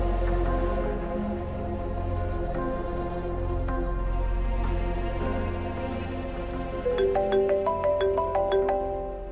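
A phone ringtone plays, beginning with a sustained melodic tone and then turning into a rapid, repeating chime pattern, loud and close.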